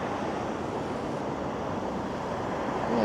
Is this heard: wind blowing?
yes